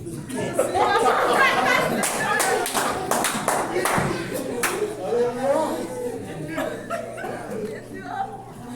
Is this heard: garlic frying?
no